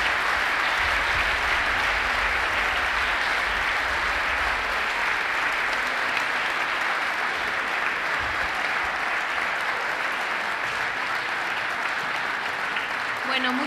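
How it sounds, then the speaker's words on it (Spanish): Audience applause after a panel talk on politics and the left, a sustained, dense clapping from a large room that holds steady throughout. A voice speaks briefly under it. "Un gran aplauso para ustedes."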